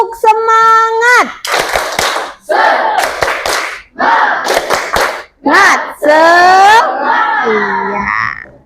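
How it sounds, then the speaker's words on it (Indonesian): A classroom of students doing the rhythmic 'tepuk semangat' clapping cheer, loud chanted voices in bursts broken by sharp sets of group claps, the children shouting together close by. "kita tepuk semangat dulu"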